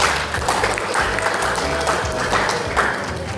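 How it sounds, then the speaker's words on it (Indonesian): Applause from a classroom of students after an Islamic history lesson, a steady dense patter of clapping that fills the clip at moderate volume with no voices over it. "Jadi tepuk tangan sekali lagi buat kita."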